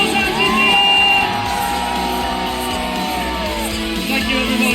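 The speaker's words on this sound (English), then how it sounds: "And one more, everyone make some noise," A large crowd at the Isle of Man Senior TT race podium cheers, shouts and whoops in a loud, sustained roar that holds steady throughout, with scattered yells rising above the general din.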